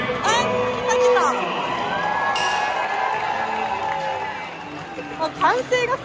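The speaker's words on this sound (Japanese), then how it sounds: "もう歓声がすごい。" Crowd cheering and roaring in a baseball stadium at a game featuring Shohei Ohtani, a loud continuous swell of many voices with shouts and whistles rising and falling throughout.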